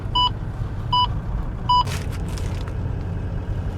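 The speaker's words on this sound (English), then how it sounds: "A lot of traffic." Low road rumble of passing vehicles with three evenly spaced electronic beeps, followed by a brief whoosh of traffic noise.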